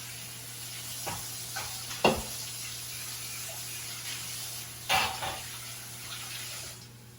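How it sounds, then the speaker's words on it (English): Hands are rinsed under a running kitchen tap during cooking, with a soft steady water hiss and a couple of louder splashy bursts, alongside a low background hum. "rinse my hands up a little bit"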